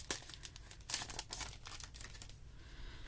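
A pack of vintage stickers handled in its plastic wrapper, giving close, quiet crinkling and rustling in short irregular bursts with no talking.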